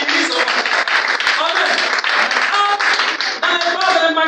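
A church congregation applauds and claps for Jesus, dense sustained clapping from a large crowd with voices calling out over it.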